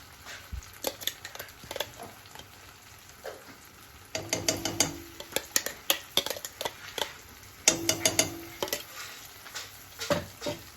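A smooth blended spice paste stirred in hot oil in a pan, with a spoon scraping and clattering against the metal in repeated bursts over a soft, steady sizzle.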